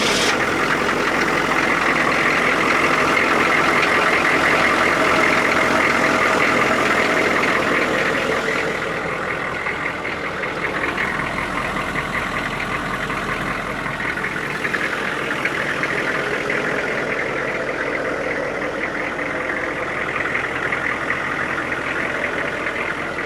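A military Humvee's 6.5 turbo diesel engine idles steadily and loudly at close range, a continuous rumbling drone with a slight dip partway through and no talking.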